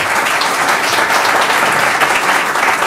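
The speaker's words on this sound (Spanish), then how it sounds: "Quisiera pedirles un aplauso para ellos." Loud, dense audience applause fills a hall at a medical conference on distal radius fractures, steady and sustained from start to finish with no pauses.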